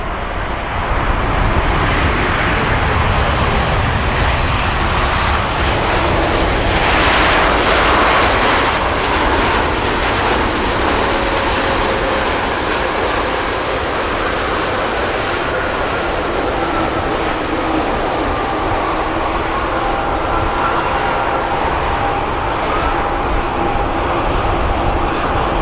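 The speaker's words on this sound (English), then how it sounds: "Silky touchdown from the TUI." A TUI airliner touches down on the runway at Manchester Airport, giving a loud, sustained roar of engines and rushing air that fills the whole stretch with broadband noise.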